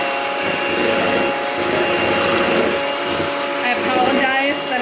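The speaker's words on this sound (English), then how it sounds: "you get yourself a hand mixer and put it on medium" A hand mixer whirs steadily on medium through banana bread cheesecake batter, a loud continuous buzzing drone with a faint beater rattle near the end.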